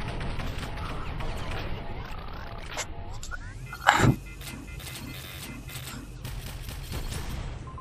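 Rapid, repeated electronic beam-gun fire in the VR shooter game Space Pirate Trainer, with steady zapping under dense game effects and a loud crashing burst partway through.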